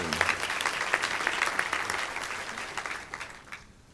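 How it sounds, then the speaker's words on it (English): Audience applause at a sustainability summit keynote, with a crisp burst of clapping and a few sharp whoops that gradually thins out and fades by the end. "give her a round of applause"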